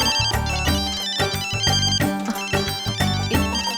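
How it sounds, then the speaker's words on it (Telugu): A phone ringtone plays for an incoming call, a bright repeating electronic melody with a steady rhythmic pulse, clear and close with no talk over it. "మా మహిళా మండలి వాళ్ళు ఫోన్ చేస్తున్నారు"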